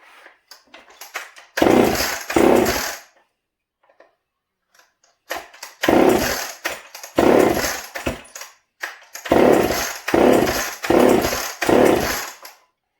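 A Homelite XL76 chainsaw engine is pull-started and catches in three loud bursts of rough, revving running, with brief spluttering attempts and quiet pauses between them.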